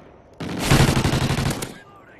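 A loud, dense burst of rapid automatic gunfire erupts abruptly and rattles on for over a second before cutting off, standing alone without talk.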